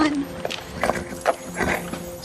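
Several hoofbeats of a horse pulling a one-horse open sleigh, clopping at a walking pace, with faint jingling and a voice speaking quietly underneath.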